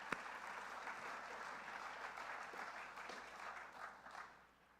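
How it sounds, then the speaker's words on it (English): A civic audience at a city's State of the City address applauds in a steady, even wash of clapping that stays faint and distant, then tapers off toward the end. "Thank you, we should clap."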